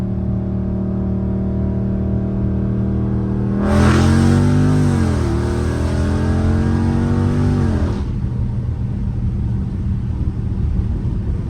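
A Dodge Scat Pack accelerates hard from a 40 mph roll, its loud engine note rising in a steady pull for several seconds before easing off, heard from inside the car over a constant road drone.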